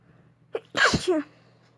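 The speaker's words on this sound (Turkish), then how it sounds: "Hapşırasım geldi." A single close, sharp human sneeze with a short inhaled buildup, loud and isolated over quiet room hum.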